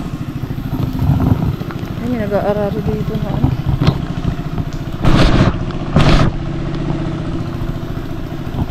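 A motorcycle engine runs steadily during a ride, a loud continuous mid-pitched drone with clattery bursts, under people talking in Filipino.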